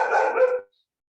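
Dogs at a nearby house barking, a short close burst of a yelping bark lasting about half a second and then cutting to silence.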